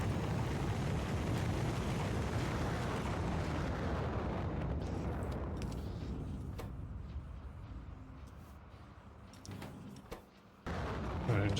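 Rocket turrets in a video game fire a dense, continuous barrage of loud explosive booms and rumbling blasts, heaviest at first, then thinning into scattered bursts with a brief dip near the end before resuming.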